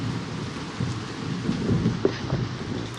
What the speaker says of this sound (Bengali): জোরে বৃষ্টি নামো।